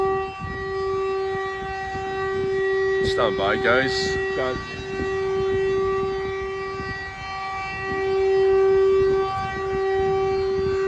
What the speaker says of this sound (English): So we got an air raid siren going off.